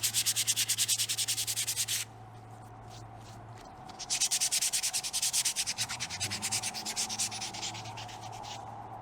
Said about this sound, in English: Just gonna lightly scuff up this inside edge with a very dirty piece of sandpaper.